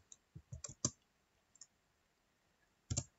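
Typing a git commit message on a computer keyboard produces a quick cluster of faint key clicks, a lone tap, then a short final burst after a pause.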